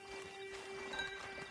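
Horse hooves clip-clop softly in Red Dead Redemption 2 Online on PS5, a short, faint run of steps under a steady tonal background hum.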